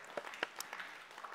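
Brief, faint scattered applause from a church congregation at a men's camp announcement, a few light claps spaced unevenly against a quiet room.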